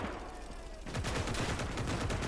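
In the video game Gates of Hell, after a brief lull, rapid heavy 20mm cannon fire breaks out in a fast, steady burst of sharp repeated shots.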